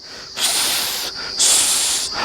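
A voice imitates a hissing "phuss" sound, two long breathy hisses with a short gap between them, close and fairly loud.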